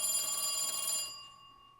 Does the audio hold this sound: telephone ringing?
yes